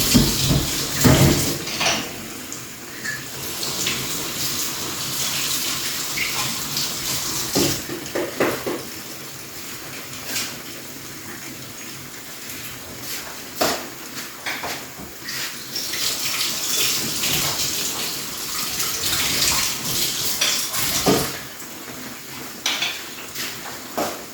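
Tap water runs steadily into a sink while dishes are washed up in a rural Filipino kitchen, during the cooking of chicken liver adobo. It is a continuous hiss with occasional clinks and knocks of dishes, and no talking.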